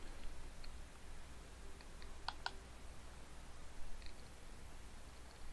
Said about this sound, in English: And click on the Continue button to let it run to that point.